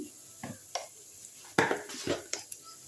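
A spatula stirs an oats kachori vegetable filling seasoned with salt, turmeric, a little sugar and chaat masala in a pan, giving soft, scattered scrapes and light clinks at a quiet level.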